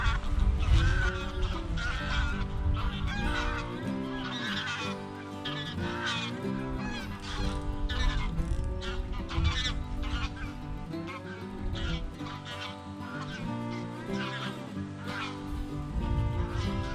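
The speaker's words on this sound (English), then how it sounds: "The geese are going crazy." Geese honk loudly and continuously beside a big, deep river, a dense chorus of many birds calling over each other throughout.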